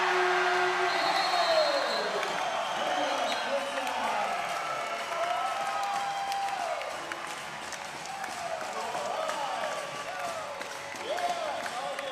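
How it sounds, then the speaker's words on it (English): A basketball crowd at a men's grand final between Townsville Heat and Mackay Meteors roars and applauds continuously, with sneaker squeaks from the court cutting through the sustained cheering. "Listen to this crowd, Dave"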